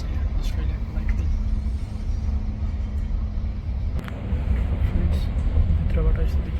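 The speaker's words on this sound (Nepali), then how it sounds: "अस्ट्रेलियाको लाइट रेल" Sydney light rail tram running, heard from inside the carriage: a steady low rumble and rolling hum runs throughout, with faint clicks and brief higher squeals over it.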